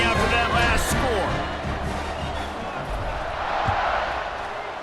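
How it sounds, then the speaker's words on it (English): A stadium crowd in the EA Sports College Football 26 video game buzzing after a touchdown, a loud continuous roar that slowly eases, with a commentator's voice over it. "this crowd is buzzing after that last score"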